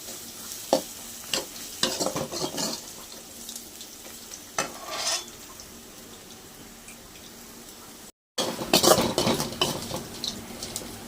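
Onions frying golden in a pan for egg fry, with a steady sizzle broken by repeated scraping stirs of a spatula against the pan and a brief cut to silence before louder stirring resumes.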